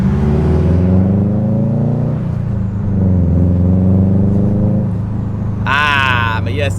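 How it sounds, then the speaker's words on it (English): A car with a loud, unintentionally modified exhaust drones deeply and close by, rising and falling through a few rev swells, with a brief higher-pitched whine near the end. "I unintentionally made my car really loud"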